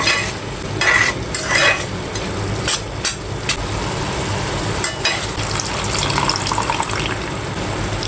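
Capsicum and onion cooking in a pan with a little added water over a high gas flame, a steady bubbling sizzle with scraping stirs and a few sharp clanks of the spoon against the pan.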